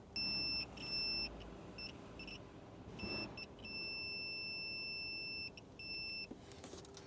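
A high-pitched multimeter continuity beep, tested against an exhaust stud on an Alfa Romeo GTV with a poor earth, cuts in and out irregularly, several broken tones over a low background hum.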